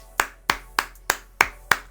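Six crisp hand claps in an even, steady rhythm, each sharp and close, spaced about a third of a second apart with nothing else around them.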